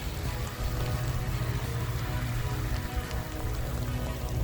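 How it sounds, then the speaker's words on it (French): Heavy freezing rain pours down beside a salted, icing road in Québec, a dense and steady patter that stays close and loud and never lets up. "Il pleut vraiment fort."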